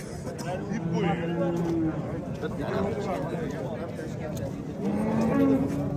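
A cow at a busy livestock market lows with several drawn-out moos, one early and another near the end, amid crowd chatter and close talk.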